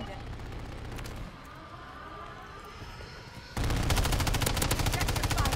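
Gunfire in Call of Duty MW3, with muffled shots in the opening stretch and then a loud, rapid automatic burst near the end. Voices are heard underneath.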